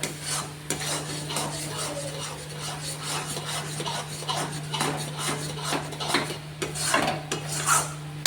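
A spatula scrapes and mashes chhana in a pan while making sandesh, producing repeated close rasping strokes in an uneven rhythm over a steady low electrical hum.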